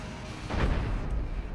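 A single heavy cannon shot from the space-ship game Cosmoteer, a deep booming blast that rises suddenly and rolls on at a moderate level under steady background game noise, with no speech.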